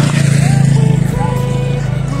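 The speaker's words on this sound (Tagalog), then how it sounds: "May motor." A motorcycle engine chugs close by with a steady, pulsing low drone, while a person talks over it.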